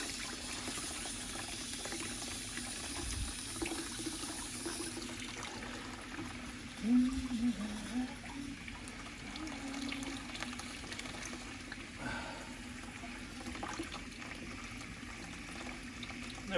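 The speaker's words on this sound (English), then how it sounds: "collect it in a bucket and then dispose of your coolant" Coolant drains from a Mazda Miata MX5 engine in a steady faint trickle and splash into a bucket, low and continuous with a brief louder gurgle midway, close by.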